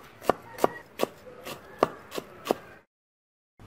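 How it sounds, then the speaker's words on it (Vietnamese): Six sharp knife strikes against a cutting board at a steady pace while chopping scallions, close and crisp, followed by silence. "Rồi cắt nhỏ luôn."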